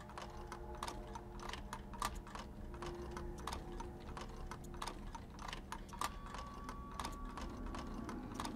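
Computer keyboard keys pressed in a steady stream of quick clicks and taps during play of the game Presentable Liberty, fairly close and moderately loud with no talking.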